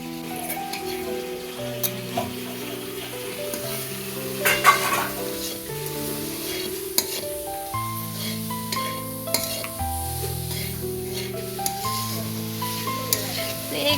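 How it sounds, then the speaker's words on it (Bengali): Grated coconut sizzles softly in a wok over low heat while being stirred, a faint continuous frying hiss with occasional scraping, heard under melodic background music. "এবার নারকেলটা আস্তে আঁচে এটা করা হচ্ছে, নাড়তে থাকতে হবে।"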